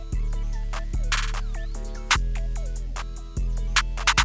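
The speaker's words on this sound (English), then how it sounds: "Then I wanted to add a accent snare" Synth beat built from sustained bass chords with a punchy accent snare hitting on a repeating pattern, bright sharp bursts over the low tones, loud and alone.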